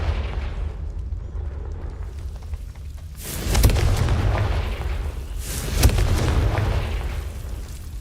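Two heavy booming blasts from the Confringo spell in Hogwarts Legacy, each a sharp crack followed by a rumbling roar, a couple of seconds apart over a low background.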